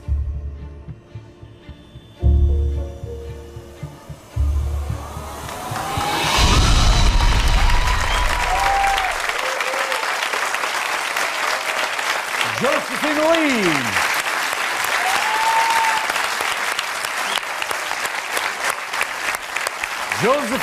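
Loud audience applause and cheering on a TV magic show, building up after music, then sustained clapping with whoops and voices mixed in.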